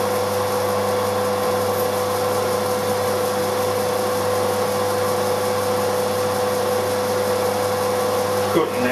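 A 7.9 drill bores into case steel on a machine, a loud continuous whine with a steady tonal hum throughout, ending in a brief scrape.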